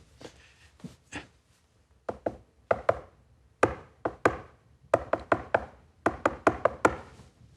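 Sharp knocks tapped out in prisoner tap code, in irregular clusters, groups of quick raps separated by short pauses, on a hard surface, close and clear.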